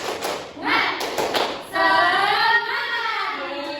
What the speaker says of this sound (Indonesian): Sekarang tepuk semangat.